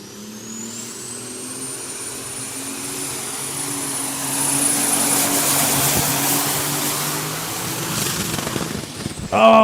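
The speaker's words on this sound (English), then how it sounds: "We heard the tone of the engine change as he was going down the track" A pulling tractor at a European tractor pulling championship event in Bernay roars down the track, its loud sustained engine growl building steadily, then breaking into harsh bursts as it lets go near the end.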